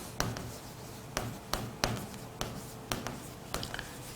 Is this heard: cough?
no